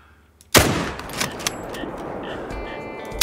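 A hunting rifle shot in Call of the Wild while hunting whitetail: one sharp, loud crack bursts out of near silence and rolls into a long echoing tail, with faint clicks and a short thump at the end.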